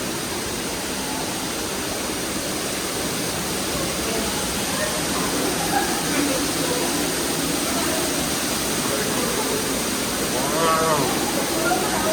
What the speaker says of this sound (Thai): เดินเข้ามาจะเจอกับน้ำตกด้านหน้าสุดที่มีชื่อเรียกว่า Waterfall